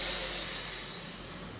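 Air hissing out through a balloon's neck stretched narrow from both sides, a steady bright hiss fading slightly over under two seconds, with no other sounds.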